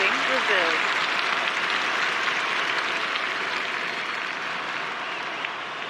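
A large stadium crowd at a London 2012 Olympic shooting event in a video game roars and cheers steadily, a dense wash of applause and voices filling the space throughout, with a faint announcer-like voice early on.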